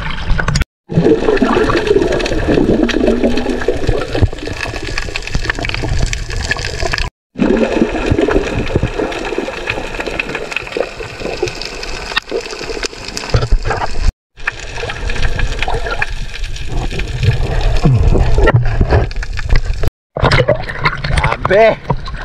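Waves slosh and splash hard against a boat in bad weather at sea, a loud, continuous churning rush with surging bursts and brief dropouts, while people talk over it.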